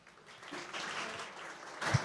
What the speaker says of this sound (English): Huge applause there for Jason.